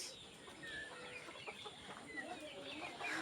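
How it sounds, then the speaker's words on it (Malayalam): Chickens cluck softly in the distance over a steady outdoor background hum, with scattered faint calls throughout, around 6 pm as they wait to go into their coop after heavy rain. "കൂട്ടിൽ പോകാൻ കോഴികളൊക്കെ റെഡിയായി നിൽക്കുന്നുണ്ട്"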